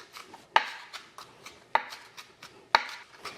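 Sharp knife strikes chopping scallion on a cutting board, three loud distinct chops spaced about a second apart with lighter cuts in between, close and clear without talk.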